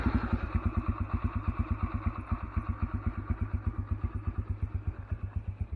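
A Yamaha TTR125 dirt bike idles close by with a steady, rapid thumping pulse that holds an even rhythm throughout, with no voices over it.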